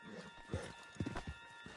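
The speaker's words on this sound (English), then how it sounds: "back of John's horse and let's get out of here" Horse hooves clip-clop in Red Dead Redemption 2, a handful of uneven thuds at a walking pace over a faint steady hum, with a soft snort among them.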